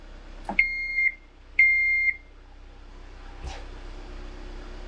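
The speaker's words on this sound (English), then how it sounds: "here's this beep that I'm talking about. Like it is piercing." Two sharp, piercing electronic vehicle warning beeps, each about half a second long with a steady high tone, separated by a short pause and followed by quiet background noise.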